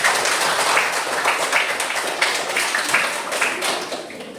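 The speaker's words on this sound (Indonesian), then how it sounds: "Tepuk tangan untuk kelompok." A classroom of students claps for a student group after its presentation, a dense, sustained patter of many hands lasting several seconds before tapering slightly.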